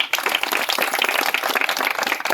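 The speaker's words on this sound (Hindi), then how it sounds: "जोरदार तालियां दे।" Dense, steady clapping from a crowd at a public awareness gathering in Hardoi, filling the clip from start to end without a break and with no voices on top.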